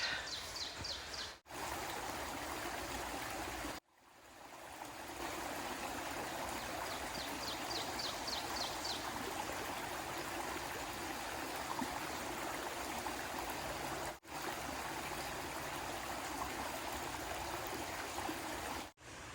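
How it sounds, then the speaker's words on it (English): A stream flows and burbles steadily throughout, with faint bird chirps and a few brief dropouts in the sound. "the stream that I need to get water at"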